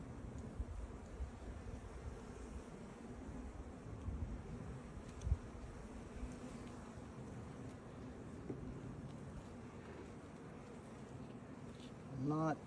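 Honey bees in a crowded hive box during an inspection hum in a continuous low, droning buzz up close, steady throughout with occasional faint knocks of handling.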